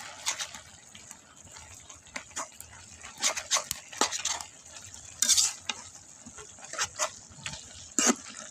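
Freshly picked lau shak (bottle gourd greens) stirred in a pan: repeated scraping, clattering strokes of a spatula come in irregular bursts over a faint background sizzle, close and fairly clear.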